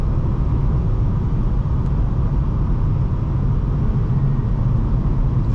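A 2007 Honda Civic LX engine hums steadily under light throttle from inside the cabin, a constant low drone with road rumble and no voices.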